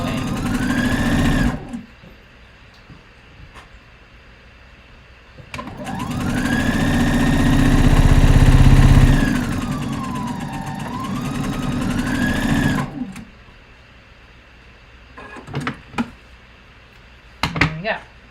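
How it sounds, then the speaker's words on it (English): A sewing machine stitches fabric for a boxy top: a short run, then a long steady whir of about seven seconds that slows and speeds, followed by brief clicks, with some talking in between. "And I'm going to leave my presser foot in the fabric."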